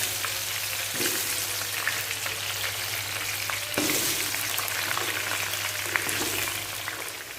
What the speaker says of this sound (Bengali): এবারে এর মধ্যে আমি দিয়ে দেবো আলুগুলো লাল লাল করে ভেজে নেবো